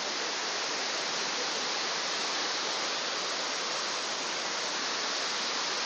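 Tad Mok waterfall in Phetchabun, Thailand, seen from its base: a steady, dense roar of falling water with an unbroken broadband rush, fairly distant and constant throughout, with no voices.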